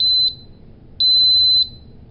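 A RAE Systems QRAE II handheld gas monitor gives loud, piercing electronic beeps at shutdown, one short tone then a longer steady tone, clean and close with near silence between them.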